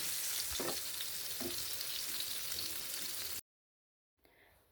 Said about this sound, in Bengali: টমেটোগুলোও ভেজে নেওয়া হয়ে গেছে।